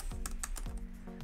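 Typing on a Satechi wireless Mac keyboard with a numeric keypad and US layout, a few close, crisp key clicks in an uneven rhythm, no voices.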